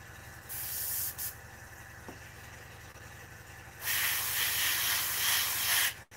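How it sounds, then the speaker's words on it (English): A small bench air compressor hums steadily under a long spray of air, the loud broadband hiss starting and stopping, then swelling for a sustained burst before cutting off, with a fan running nearby. "My poor little compressor's working overtime."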